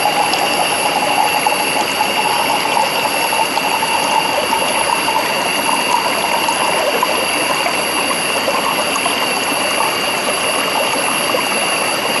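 Water squeezed quickly through a Sawyer filter, a steady loud hissing gush with a thin whistling tone, continuous and close.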